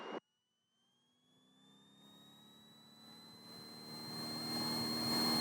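A float plane's engine powers up for takeoff on the water, starting low and faint after a brief burst, then steadily rising in pitch and loudness over several seconds.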